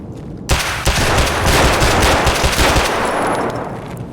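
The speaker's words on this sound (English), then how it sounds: "He ate a couple more bullets than I wanted." Sustained automatic gunfire from a first-person shooter game during a raid on a factory map, a loud continuous burst of rapid shots that begins abruptly after a short silent moment and runs for several seconds.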